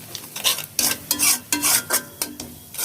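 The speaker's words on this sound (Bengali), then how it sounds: "রসুনের পেস্ট ওই মশলার সাথে ভুনে নিব বা কষিয়ে নিচ্ছি।" Spice masala with garlic paste being stir-fried in a pan, a rhythmic series of close scraping stirs and clinks of utensil against pan over a light sizzle.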